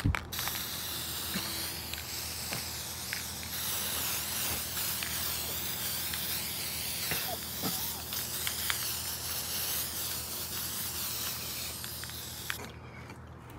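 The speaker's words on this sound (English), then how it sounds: "Wait about 10 minutes and spray the second coat." A spray paint can hisses almost continuously, fairly loud and close, applying a coat to an MK Sound IC95 in-ceiling speaker, with a few small clicks and pauses near the end.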